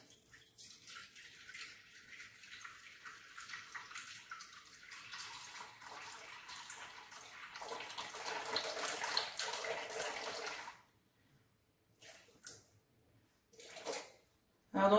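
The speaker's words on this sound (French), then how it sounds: "D'abord, je vais mettre 300 g d'eau." Water runs steadily into a Thermomix mixing bowl for about ten seconds, a close, even pouring rush that swells slightly before stopping, followed by a few faint clicks and handling noises.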